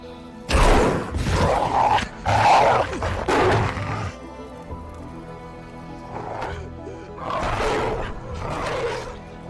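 Violent wolf attack in the film The Grey: several loud, snarling roar-like bursts with thuds and struggling in the first four seconds, then quieter, renewed growling and scuffling, with no clear talk.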